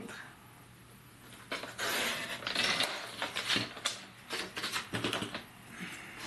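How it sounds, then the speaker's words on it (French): Thin strip of paper being cut for a scrapbook album, heard as a series of close, crisp snipping and rustling bursts with quiet pauses between. "je vais me couper une toute petite bande, comme ça ici"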